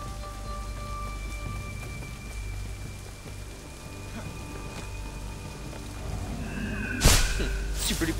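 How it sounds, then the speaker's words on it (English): Rain falls over a city at night in Assassin's Creed III as a steady, close, hissing wash with a sudden loud whoosh near the end. "This time we get rain!"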